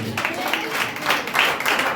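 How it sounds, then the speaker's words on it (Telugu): A congregation applauds at the close of a forty-day fasting prayer service, with dense, fairly steady clapping across the whole stretch that swells in several bursts. "చప్పట్లు కొట్టండి"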